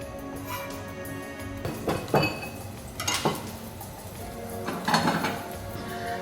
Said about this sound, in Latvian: Šampiņonus griežam plānās šķēlītēs.